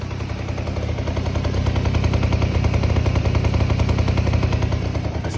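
A Yamaha CA50 Salient scooter engine idles steadily after a kick start with no throttle, a loud, fast, even putter of firing pulses running throughout without talk.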